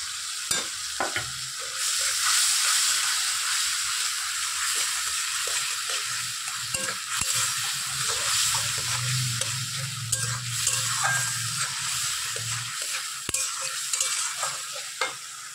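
Spice paste and chopped tomato sautéing in hot oil in a pan, a steady close sizzle with scraping stir strokes through most of the stretch and no talking.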